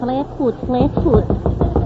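Knocking on a dressing room door as a radio sound effect: a quick run of sharp raps that overlaps a woman's melodic humming, close and clear.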